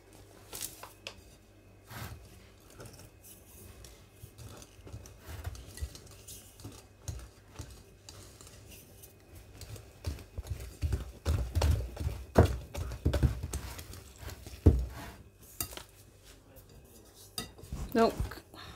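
Flour being added to galette batter and stirred in a bowl, irregular scraping and knocking of a utensil against the bowl, quiet at first and busier and louder later.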